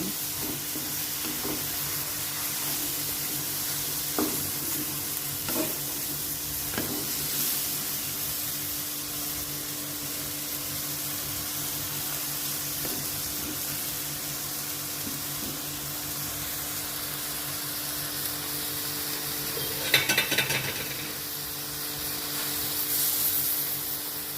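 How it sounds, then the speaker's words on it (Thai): Snow peas are stir-fried in a wok with shrimp, squid and baby corn, producing a steady close sizzle and hiss with occasional scrapes and taps of the spatula. "ถั่วลันเตาผัดนานเนี่ยมันจะสุกมันไม่อร่อย ต้องผัดให้มันกรอบ"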